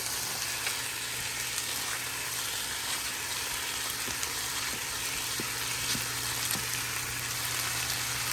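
Tomatoes and onions sizzle loudly in a frying pan with reserved bean juice for salsa verde enchiladas, a constant dense hiss close up with faint crackles and the occasional stir, no talking.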